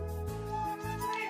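A cat meows up close with a long, drawn-out tonal call that wavers in pitch, clear and fairly loud against a quiet background.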